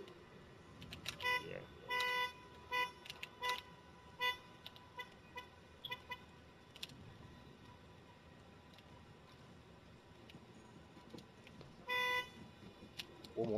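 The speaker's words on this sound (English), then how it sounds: "hear that car beeping?" Outside, a car beeps in a few short, repeated bursts, fairly faint and distant, scattered through quiet room noise.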